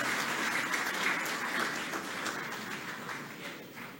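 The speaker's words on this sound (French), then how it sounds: "Sous vos acclamations." An audience at a government press conference applauds steadily for several seconds, a broad sustained patter of clapping that slowly tapers, with no speech on top.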